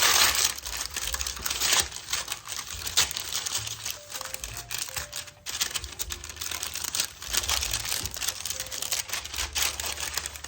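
Crinkly parchment paper being handled and pulled over a metal 8x8 baking pan, with dense rustling and crackling and a few light clatters, steady and close throughout.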